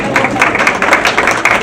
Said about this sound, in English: That deserves its own round of applause.